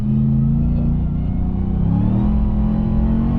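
A RAM TRX pickup truck's engine revs hard as its wheels spin up on snow, giving a loud, steady low rumble that rises in pitch and stays close throughout.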